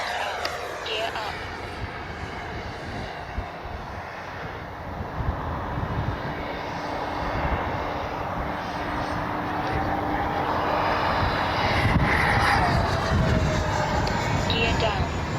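An Arrows RC MiG-29 with twin 64mm electric ducted fans whooshes steadily overhead in flight, its jet-like whine swelling and fading against open-air wind noise.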